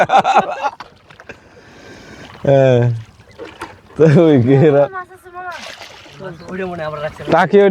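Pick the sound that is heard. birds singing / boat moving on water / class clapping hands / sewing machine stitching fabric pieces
boat moving on water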